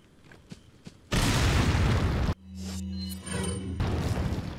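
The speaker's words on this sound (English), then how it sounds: "I'm going to try to get all of them with a grenade." A grenade blast in Resident Evil 4 HD: a loud, sudden boom lasting about a second, then rumbling low-frequency aftermath and game sounds, with no talking.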